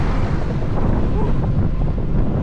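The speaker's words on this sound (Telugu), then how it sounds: "ఇక్కడ గాలులు బాగా ఎక్కువ" Strong gusting wind on a motorbike ride along an exposed road, a loud, steady buffeting roar battering the microphone throughout.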